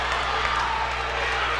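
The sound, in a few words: basketball crowd cheering in gym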